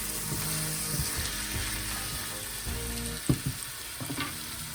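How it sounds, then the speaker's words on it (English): A spoon stirs canned ingredients together in a pot, with steady sizzling and a run of soft scraping clunks, close and fairly loud, with no talking. "So I'm just gonna stir all this together."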